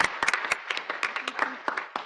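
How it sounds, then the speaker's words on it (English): An audience at an evening public health lecture on preventing falls gives a short round of applause, dense overlapping claps close by with a faint voice beneath. "we'll give them a round of applause"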